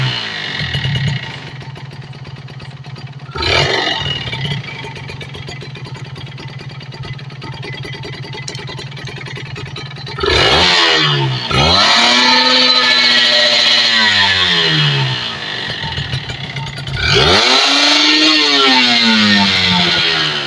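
Kawasaki Ninja RR two-stroke motorcycle engine after carburetor and membrane servicing, idling with a raspy buzz, then three sharp throttle blips rise and fall in pitch, the later revs held longer and louder.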